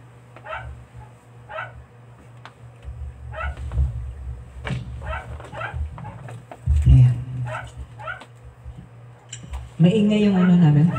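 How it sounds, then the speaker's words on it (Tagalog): A dog barks repeatedly in short bursts, with whimpering and yips mixed in, while people talk nearby. "Maingay yung aso namin."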